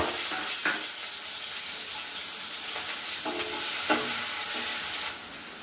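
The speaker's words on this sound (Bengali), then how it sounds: "প্রথমে একটু আলুর কুচি দিয়ে দিচ্ছি" Chopped potato fries in a hot wok with oil, giving a steady broadband sizzle punctuated by a few soft stirring scrapes, close and continuous with no talk.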